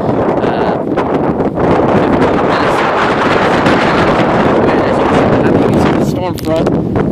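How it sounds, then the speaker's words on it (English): Strong wind from an approaching storm front with tornadic activity in Columbia, Missouri, roars steadily into the microphone, a loud buffeting rush that barely lets up, with a short dip near the end. "it's getting really windy."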